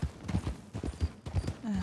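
Horse hooves clip-clopping at a steady walking rhythm in the Red Dead Redemption 2 game world, close and fairly loud, with no talk over them.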